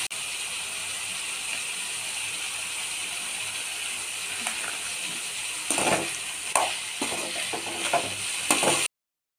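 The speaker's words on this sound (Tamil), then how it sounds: "அந்த எண்ணெயிலே நம்ம வதக்கி எடுத்துக்க போகிறோம்" Bitter gourd sautéing in oil with yellow turmeric and chilli powder, no water added, gives a steady broad sizzle throughout. Scraping stirring strokes join in near the end, close and fairly loud, with no voices.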